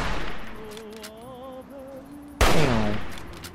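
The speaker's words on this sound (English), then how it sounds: "Oh, there's people over there shooting." Gunfire from a firefight in the video game Fallout 3, distant shots crackling under a tonal game soundtrack, then one loud, close burst that booms and trails off.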